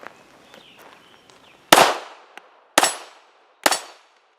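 Three loud, sharp pistol shots from a Glock 42 .380, Glock 43 9mm or Smith & Wesson Shield 9mm, spaced about a second apart outdoors, each ringing briefly, after a few quiet handling clicks.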